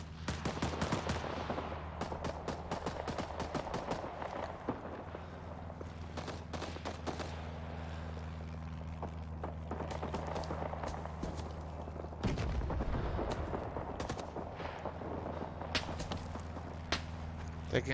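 Gunfire in the Vietnam War shooter Rising Storm 2, with dense bursts of shots crackling over a steady low rumble through most of the stretch, some sharp and close, others more distant.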